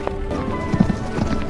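Galloping hooves of a tough war horse clop in a quick, uneven rhythm beneath a film soundtrack's music and background rumble, moderately loud with a few sharper near thuds.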